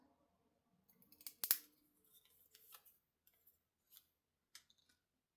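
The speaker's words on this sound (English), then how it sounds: "just snip a little banner end on here" Scissors snip a paper banner end in a few quick cuts, one sharp snip standing out loud and close, followed by faint scattered paper rustles and small clicks in otherwise quiet surroundings.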